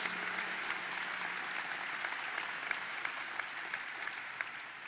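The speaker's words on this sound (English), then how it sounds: "Let's give them a round of applause, Junior Islanders and the Junior Sabres." A large crowd at the State Fair opening applauds continuously, the clapping dense and even throughout, heard from a distance with no other voices standing out.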